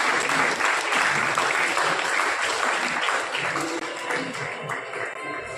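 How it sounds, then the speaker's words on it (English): Dense, steady audience applause fills a college valedictory session, loud and continuous throughout, easing off slightly toward the end with no voices over it. "Everyone, a big round of applause for the ma'am."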